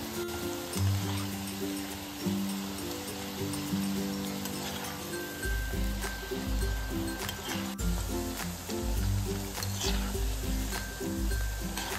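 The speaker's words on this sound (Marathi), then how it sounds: "पटापटा आलटून पलटून हे फ्राय करून घ्यायचे, जेणेकरून मस्त असे कडक होतील आणि करपणार सुद्धा नाहीत।" Wheat-flour nachos fry in hot oil and are turned over repeatedly, making a steady bubbling sizzle with small crackles over rhythmic background music.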